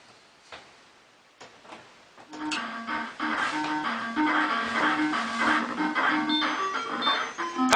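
Sega Master System II console switching on, with scattered clicks and soft handling noise followed by a bright, bubbly chiptune startup jingle that builds and keeps playing, heard fairly close with no talking.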